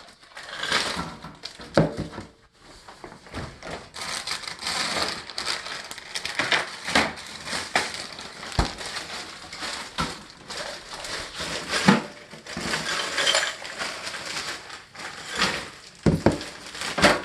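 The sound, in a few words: ice cubes poured into a bag for homemade ice cream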